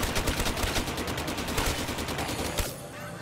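Rapid bursts of RPK light machine gun fire in Black Ops 3 Zombies, a loud, steady stream of close shots lasting over two seconds before cutting off abruptly.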